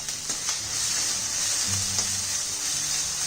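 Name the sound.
sauteing egg chilli masala on high flame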